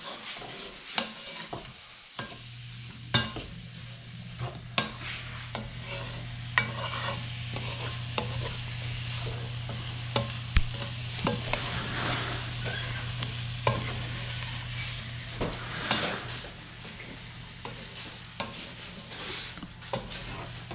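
Onions being stirred in a pan as they simmer, a low steady sizzle with a background hum, broken by irregular clacks and scrapes of a utensil against the pan over a long stretch.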